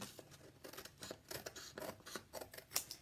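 Scissors snip through journal paper in a quick run of short, crisp cuts, close and fairly quiet, with no talking.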